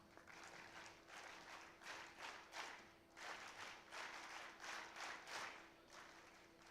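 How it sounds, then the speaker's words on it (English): An audience claps for the people on stage at a youth summit during a national youth festival in Dharwad, with rhythmic bursts of applause rising and falling in waves, fairly faint and distant, with no talk over it. "Let's have again the NSS clap for all the lucky ones on stage"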